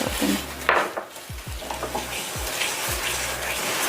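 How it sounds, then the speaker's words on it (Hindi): A spatula scrapes and stirs caramel of melting sugar in a pan, with a soft steady sizzle and repeated close scraping strokes, no voices. "मुसलसल स्पैचुला जो है इसको चलाते रहना है"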